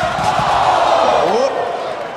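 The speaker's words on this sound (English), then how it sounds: "They're cheering for the Lotus Triad" A wrestling arena crowd roars and cheers for the Lotus Triad during the Hitokiri versus Pentagon Dark match, a steady distant swell under commentators talking.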